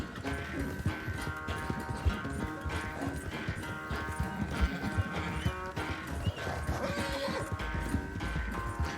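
Horse galloping in Red Dead Redemption 2 during a race to the final stretch, with rapid, steady hoofbeats and loud neighing and whinnying over a dense background of game music and effects.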